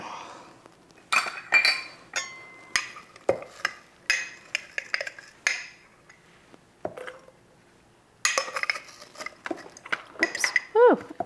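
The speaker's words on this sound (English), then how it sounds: "Spilling onions all over the place." Diced onions spill and tumble into glass jars, a close sequence of scattered clinks, taps and rattles with short pauses, sharp and irregular.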